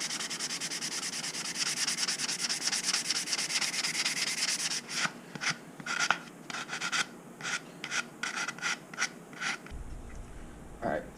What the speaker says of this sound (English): my nose cone is completely sanded down now